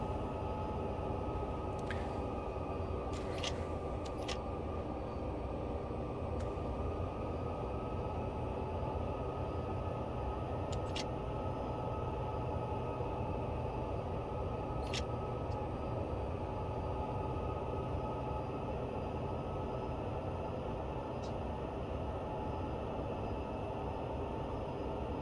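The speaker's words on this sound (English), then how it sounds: "Nice that the auto train started." A Union Pacific train on Sherman Hill in Train Sim World runs with a steady rumbling roll and continuous engine drone, with occasional faint clicks and clanks, no voices.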